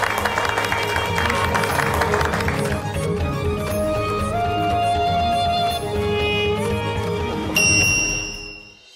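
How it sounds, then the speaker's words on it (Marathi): An audience bursts into applause at a spiritual discourse, a dense wash of clapping blended with crowd noise and background music that fades out at the end. "टाळ्या."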